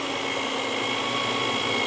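Drill press running at about 1800 RPM while drilling aluminium, a steady dense whirring hum with a faint high whine. Constant and fairly loud, with no speech.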